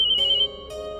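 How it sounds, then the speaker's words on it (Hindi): A mobile phone rings indoors in a family home with a bright electronic ringtone: a repeating high tone followed by a second burst of chiming notes, close and clear with no talk over it. "बेटा फोन बज रहा है तेरा।"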